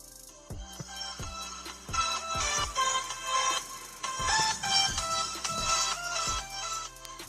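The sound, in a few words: ringtone played through Asus Zenfone 2 phone speakers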